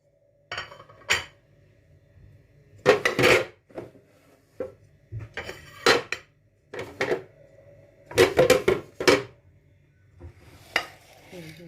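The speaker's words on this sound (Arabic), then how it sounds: "احنا هنحط البطاطس دلوقتي معاها تتسلق تاني هي وبقيه المكونات هنا في الحله." Parboiled potatoes go into a cooking pot for soup, making a series of close clattering knocks and thuds against metal, with bursts of clinking and scraping separated by short quiet gaps.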